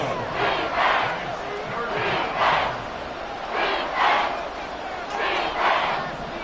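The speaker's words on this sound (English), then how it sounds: "The Arrowhead crowd in full roar." A packed Arrowhead Stadium crowd in a Madden 24 football game roars in repeated swelling waves, a loud, dense stadium cheer rising and falling about every second and a half.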